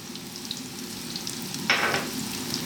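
Onion and garlic dropped into hot olive oil in a pot over medium heat, giving a soft continuous sizzle with a brief louder burst of frying partway through, close by with no talk.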